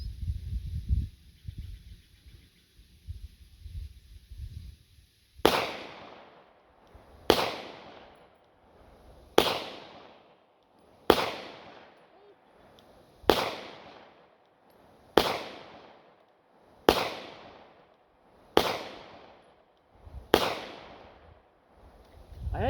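Nine sharp .243 rifle shots at an outdoor range, evenly spaced about two seconds apart, each a loud crack followed by a long rolling decay, after a few seconds of low rumbling background.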